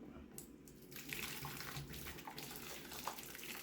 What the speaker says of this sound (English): here comes the boiling water from a sauce pot.